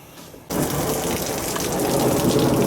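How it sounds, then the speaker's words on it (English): Rain falls outside a shop in a sudden, loud, steady downpour. It starts abruptly after a quiet half-second and then holds an even hiss throughout, with no voices. "It's still raining decently."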